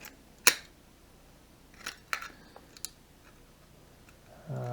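Scissors cut triangle shapes from a material meant as a slug defense, giving a few sharp isolated snips and clicks spaced apart over quiet background.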